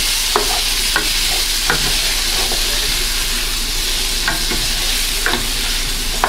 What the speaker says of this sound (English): The sizzle's coming.